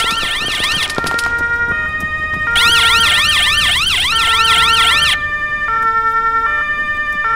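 Police siren in the Arma 3 Life Mod video game, a loud wailing, warbling electronic siren that shifts between patterns and keeps sounding throughout, with no talk.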